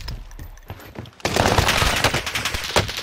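A sudden burst of SMG fire in Call of Duty Warzone, loud and rapid, following a quieter stretch of scattered game sounds.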